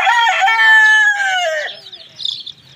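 Chickens and chicks give loud, close clucking and crowing-like calls, a sustained tonal cry followed by fainter chirping, with no talk.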